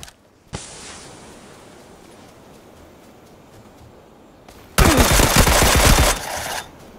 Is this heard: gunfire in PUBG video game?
yes